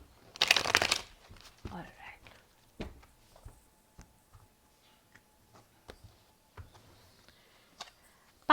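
Tarot cards shuffled and drawn during a reading, a short burst of riffling followed by scattered soft flicks, taps and card slides, fairly close and quiet.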